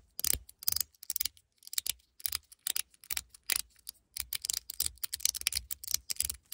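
A 42cosmo Lightning fidget slider on a Zerk toothed track with ball-and-spring detents, giving rapid, crisp clicks in uneven bursts and runs, close and clear with short silent gaps between.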